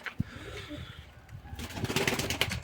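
A few pigeons let out of a coop on a windy, drizzly day, with soft coos and brief wing flaps at close range, then a busier stretch of rustling wing noise and wind toward the end.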